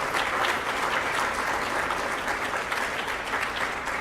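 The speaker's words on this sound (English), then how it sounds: "So give yourselves a big round of applause." An audience gives a round of applause, a dense, even wash of many hands clapping that holds steady for several seconds without talk.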